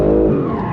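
BMW M3 tires breaking loose on a track, a loud, sustained tonal squeal lasting under a second, close and steady, fading slightly toward the end.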